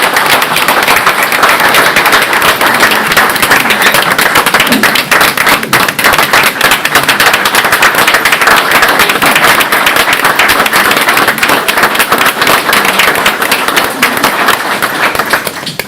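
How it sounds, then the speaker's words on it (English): Sustained applause from an audience at a Halifax County board of supervisors meeting, a dense, loud wash of many hands clapping that holds steady for the full stretch before tapering at the end. "And you can clap."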